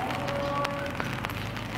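Steady rain falls at a Buddhist temple in Kanchanaburi, Thailand, a continuous close hiss of drops on surfaces with faint scattered taps and no talk.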